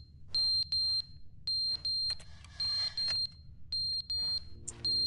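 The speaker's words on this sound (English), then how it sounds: "Stop the beeping!" Electronic alarm from The Stanley Parable video game, a loud high-pitched beeping repeating in short regular bursts over a quiet low background hum.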